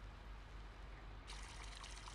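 Water pours into a barrel being refilled on a chicken farm in Farming Simulator 22, a steady trickling stream that starts abruptly partway through and runs loud and close over a low background hum.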